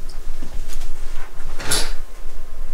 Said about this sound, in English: So we have a sliding door.